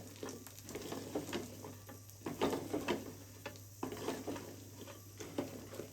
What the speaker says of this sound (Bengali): একটু নেড়ে চেড়ে কষিয়ে নিই